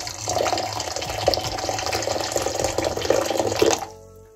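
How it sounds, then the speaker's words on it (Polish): Hot water, 200 ml, poured from a kettle into a medium bowl of lemon jelly powder, a steady splashing gush for about four seconds before it stops abruptly. "wlewamy 200 ml gorącej wody."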